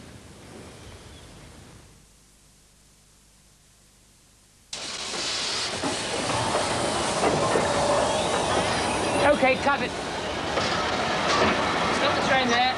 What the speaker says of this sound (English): Stop the train there.